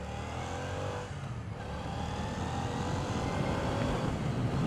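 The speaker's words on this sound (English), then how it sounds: "Hopefully that van will stop" A van's engine runs close by with a steady low rumble and broadband noise that holds evenly for several seconds, no talk over it.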